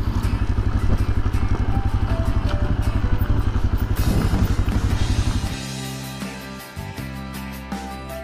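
A Yamaha Serow 250 motorcycle rides along in Hokkaido, its single-cylinder engine pulsing rhythmically and loud up close, then easing off to a quieter, lower note partway through with some clatter.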